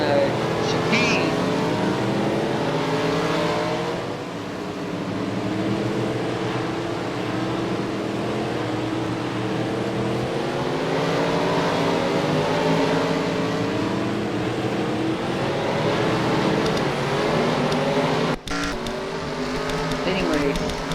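Race cars scream past through a chicane in an NROL racing video game, engine notes rising and falling in a dense, loud stream of passes while a commentator talks over the whole stretch.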